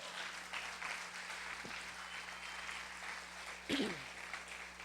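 A church congregation claps in a steady, fairly faint patter of applause that continues throughout, with a sharper burst of claps near the end.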